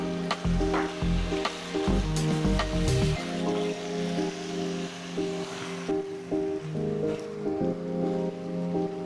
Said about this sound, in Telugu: ఇప్పుడు ఒక కిలో చికెన్ ముక్కల్ని ఈ కుక్కర్లో వేసి మీడియం ఫ్లేమ్లో ఉంచి కలుపుకోవాలి